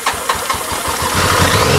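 A BMW K75 motorcycle, not run for a long time, is started without choke: a short cranking churn catches into a steady, loud idle that builds over under two seconds, with no voices.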